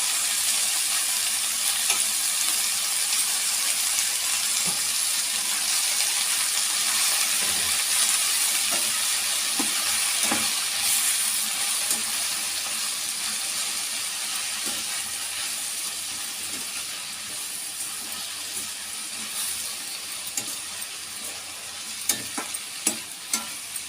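Chopped spinach leaves frying in a pan make a continuous bright hiss and sizzle with scattered small crackles and faint stirring scrapes, easing slightly toward the end; no one speaks.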